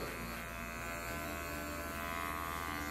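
Electric hair clippers fitted with a number 1 guard cutting hair during a barbershop tape fade, giving a steady close buzzing hum throughout, fairly quiet and with no talking.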